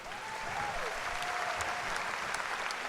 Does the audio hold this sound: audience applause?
yes